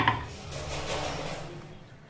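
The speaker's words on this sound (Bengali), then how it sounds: "এবারে আমি একটা নিমকি বেলে নিচ্ছি।" A rolling pin works nimki dough, a thin snack dough with a little oil, producing a steady, close rolling rumble with a light knock at the start and no voices.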